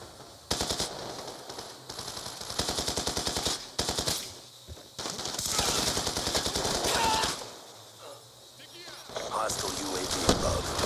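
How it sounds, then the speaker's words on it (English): Rapid automatic gunfire from an MQ-27 Dragonfire drone in Black Ops 2 sounds in loud, dense bursts that stop and start across the span, with sharp shots near the end. "Friendly MQ-27 Dragon fire deployed."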